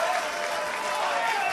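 Steady crowd applause at a BDO World Darts Championship 2016 match, a dense continuous patter of clapping filling the venue, with faint voices mixed in.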